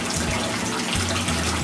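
Water pours and splashes steadily into a container to collect a fresh water sample on an urban farm, a close, continuous gushing with no talking.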